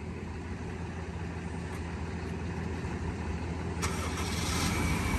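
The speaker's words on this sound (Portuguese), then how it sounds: "Desliga o farol primeiro e bota pra pegar." A car whose battery has just been replaced starts up and settles into a steady idle, with a continuous low engine rumble throughout and a brief click partway through.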